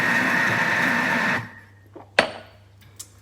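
A Thermomix kneads beer bread dough with a loud, steady motor whir that cuts out partway, followed by a few sharp knocks and clicks in the quieter machine.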